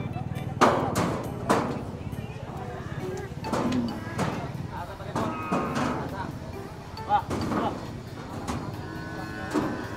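Cattle being loaded at a stockyard in the Philippines, with repeated loud moos and bellows spread across the clip over steady thumping and shuffling, while people talk nearby.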